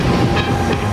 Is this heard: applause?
no